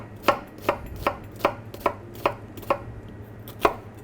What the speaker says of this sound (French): Ensuite, on va ciseler l'oignon rouge.